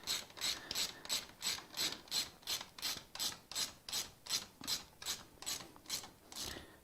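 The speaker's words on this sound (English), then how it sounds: "So I'm gonna go ahead, tighten this up." A hand ratchet tightens bolts on a Honda motorcycle under restoration, clicking in about fourteen steady, evenly spaced strokes, close and moderately quiet, with no voices.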